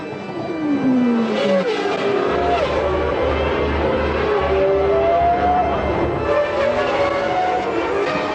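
Formula 1 cars accelerating off the grid at a 1994 race start, loud engine whines sweeping upward in pitch over a rumbling crowd-and-engine wash that stays full and steady throughout.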